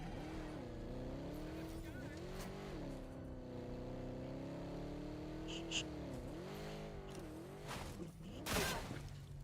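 A car in a jungle video game revs and races with a wavering engine note, tires squealing and a couple of impacts or skids near the end, with a voice talking over it.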